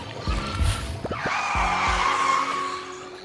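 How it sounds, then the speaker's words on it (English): A car's tires screech in a long rising squeal over a rumbling engine in the video game Bear and Breakfast, preceded by a few brief knocks and clunks. "Tire screech?"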